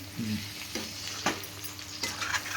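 Keema-stuffed capsicums are gently stirred in a pan over steady sizzling, with a few soft scraping strokes of the spoon spaced out across the moment.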